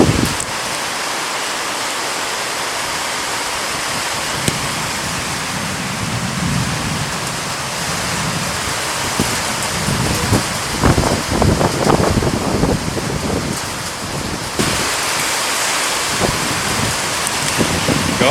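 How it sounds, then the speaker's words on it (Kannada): Heavy rain falls in a dense, continuous hiss with gusts of wind buffeting the microphone, steady and loud for the whole stretch without talk. "ಬಟ್ ಮಳೆ ಸೂಪರ್."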